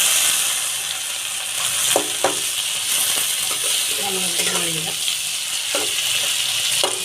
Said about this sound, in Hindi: टमाटर मिक्स भल भाव में भाजीदबा